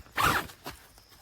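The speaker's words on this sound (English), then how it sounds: "the single door zipper is also something that is troublesome" The single door zipper on a CAMPROS 6/8-person family dome tent is pulled in one quick, raspy stroke, followed by a few softer handling sounds close by.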